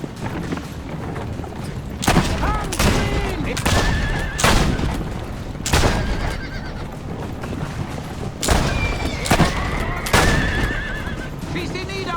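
Gunfire rings out near a horse in Assassin's Creed Brotherhood, with several sharp, loud shots spread across the stretch and a horse whinnying amid game noise and busy background sound.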